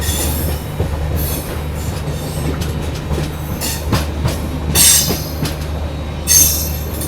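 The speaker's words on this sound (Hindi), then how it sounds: "और ये लो भाई साहब अपनी ट्रेन को भी अब 3rd लाइन से मेन लाइन पर ही डाल दिया गया" Aboard the Kanpur Shatabdi Express as it crosses from the third line onto the main line, wheels rumble steadily with rhythmic clatter and occasional squealing bursts over the points.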